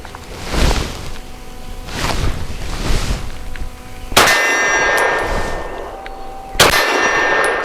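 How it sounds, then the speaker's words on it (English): A Walther PDP compact pistol with a 5-inch slide fires at a steel plate about 20 yards away, with sharp reports each followed by a ringing metallic clang, four shots spaced out at an unhurried pace. "ABC zone piece of steel out there 20-ish yards that I'm gonna be aiming at"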